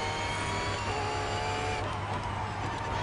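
Engine drone of cars tailing closely behind in the driving game Test Drive Unlimited Solar Crown, a steady, continuous hum with a faint shifting tone and no voices.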